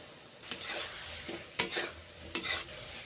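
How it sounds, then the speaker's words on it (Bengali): Eggplant is stir-fried in mustard oil in a pan, under a low sizzle, broken by three or four distinct scraping sweeps of a spatula at roughly one-second intervals, close and without speech. "এইভাবে বেগুনগুলো ভালো করে কষে নিচ্ছি, সর্ষের তেল দিলাম তাই কষে নিচ্ছি ভালো করে।"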